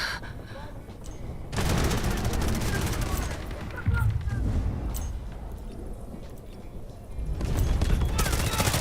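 Dense, rolling bursts of gunfire and heavy explosions in the Delta Force video game, loud and nearly continuous, dipping briefly midway before swelling again.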